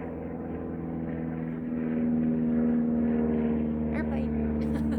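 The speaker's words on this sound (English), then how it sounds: "Airplane." An airplane flies overhead above a farm: a steady droning hum that swells noticeably louder partway through and holds as it passes.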